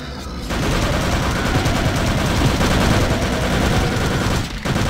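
Gunfire in Return to Castle Wolfenstein, a dense continuous rattle of rapid shots and explosions lasting several seconds, loud and close, with little else audible.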